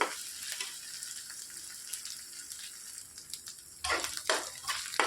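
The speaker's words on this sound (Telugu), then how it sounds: "అల్లం వెల్లుల్లి పేస్ట్ పచ్చివాసన పోయే వరకు వేయించుకోవాలి ఉట్టిగా నూనెలో బాగా వేయించుకున్నాకే క్యాప్సికమ్ వేసుకోవాలి" Onions and ginger-garlic paste frying in oil for a capsicum masala curry, a soft continuous sizzle that swells into louder bursts of stirring and crackling near the end.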